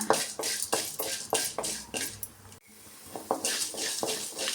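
Black peppercorns and fenugreek seeds being dry-fried and stirred in a pan, with repeated scraping and rattling strokes of a spoon against the metal and a light sizzle, brief pause midway, no talking.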